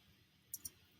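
Two quick, crisp computer mouse clicks in a quiet room, close and faint, spaced about a tenth of a second apart.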